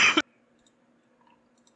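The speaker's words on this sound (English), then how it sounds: "we both had our little coughing fits." A single short, harsh cough lands at the very start, loud and close, then cuts to near silence with only a faint low hum.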